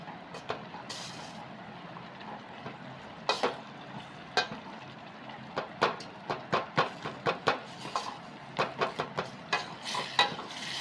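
Maggi noodles cooking in a pot over a lowered gas flame, a soft simmering hiss broken by a run of quick stirring clicks and taps against the pot.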